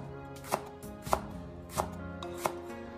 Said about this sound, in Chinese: 准备大葱1根，将它清洗干净以后，再改刀切成马蹄片